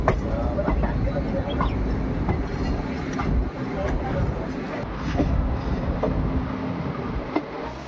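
Express passenger train on the Jodhpur line in Rajasthan taking a sharp curve, with a steady, loud rolling rumble of wheels on rails and scattered clicks and squeals, heard continuously from on board.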